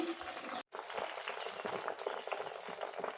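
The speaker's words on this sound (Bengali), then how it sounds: "এবার এটা কিছুক্ষণ ফুটতে থাকুক" Homemade hair oil bubbles and sizzles in a pan, a continuous crackling simmer with one short gap, close and without talk.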